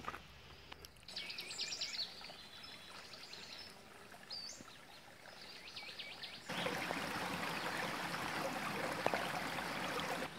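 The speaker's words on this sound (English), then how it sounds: "There's our second waterfall" Water spills steadily from a waterfall in a Los Angeles canyon near Grotto Falls, a soft continuous rush with birds chirping early on, then growing louder and fuller partway through.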